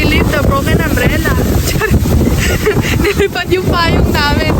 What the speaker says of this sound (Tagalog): Masyadong mahangin para sa payong.